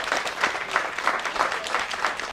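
Sustained audience applause at a school dedication ceremony for an African American cultural heritage center, many hands clapping steadily for a couple of seconds before cutting off abruptly.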